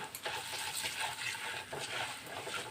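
Spices and ginger sautéing in oil, a continuous crackling sizzle with bright hissing and occasional stirring sounds, close and moderately loud.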